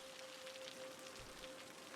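Faint steady rainfall in Cities: Skylines, a soft even patter pattering on surfaces throughout, with a thin tonal hum underneath.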